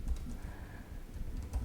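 Computer keyboard being typed on while naming a field in data software, with a few soft, scattered key clicks that sit faintly over a low background rumble.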